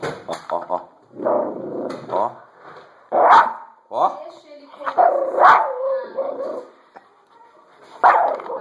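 A dog growls and snarls in short bursts while eating, close by, with a person speaking briefly between the growls.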